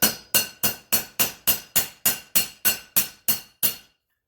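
A hammer taps a wheel lock lug nut about thirteen times in a steady, quick rhythm. Each sharp metallic strike is close and clear and rings briefly, then the taps stop.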